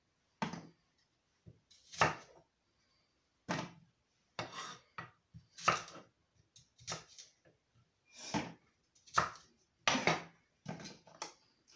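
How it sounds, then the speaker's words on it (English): A knife slices through an apple in a series of short, crisp cuts, quiet and irregularly spaced with silent gaps between them and no talking. "And I'm going to slice up my apple."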